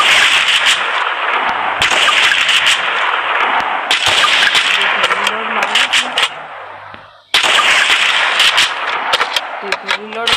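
Repeated AWM sniper rifle shots in a mobile battle-royale shooter game, sharp loud cracks several times in quick succession with a brief gap near the middle, over dense game background noise.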